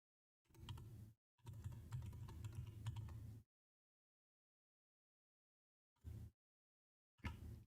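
Fingers type on a computer keyboard in quick bursts of clattering keystrokes, two longer runs followed by two short bursts, each separated by silence, with no talking.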